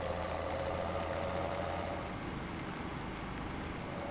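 Tractor engine idling in Farming Simulator 17, a steady low droning rumble with a constant mid hum, holding even and loud throughout with no talk.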